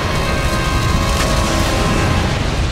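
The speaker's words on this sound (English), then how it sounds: "Wow, that's a big explosion." A loud, continuous roaring rumble fills the scene of the animated series Avatar: The Last Airbender, dense and sustained like a big blast with ongoing fiery noise, no clear pauses.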